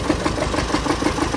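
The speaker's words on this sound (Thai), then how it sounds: "อยู่ในเครื่องยนต์นะดังก๊อกก๊อกก๊อกก๊อกก๊อกก๊อกครับได้ยินนะชัดเจนครับ" A Chevrolet Colorado Z71 engine runs with a faint, steady knocking, light rhythmic taps repeating several times a second over the idle hum, close and moderately quiet.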